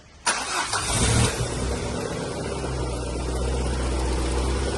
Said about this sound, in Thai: ยกเครื่องเข้าเสร็จเรียบร้อยนะมาติดเครื่องดูกัน